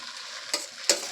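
Broccoli being stir-fried in a pan: a steady close sizzle with two short, sharp scraping strokes of the spatula, quiet overall.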